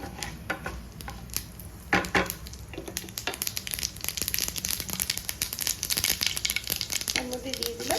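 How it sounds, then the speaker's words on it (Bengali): Mustard seeds spattering in hot oil in a pan while being stirred, a busy crackling sizzle with scraping and clinking from the utensil, growing denser partway through, with a voice speaking over it. "তেলটা গরম হয়ে গেছে, তার মধ্যে দিয়ে দিচ্ছি সর্ষে। ভালো করে নাড়িয়ে দিচ্ছি।"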